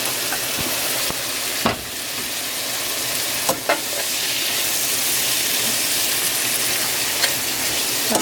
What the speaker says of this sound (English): I want it to cook down some more, and I don't want it to start sticking to the pan